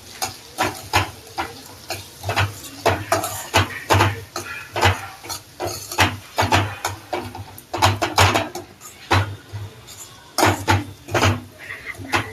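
A spoon scrapes and stirs frankie filling in a pan, producing repeated sharp scraping strokes in an irregular rhythm over a low steady sizzle, close and clear throughout.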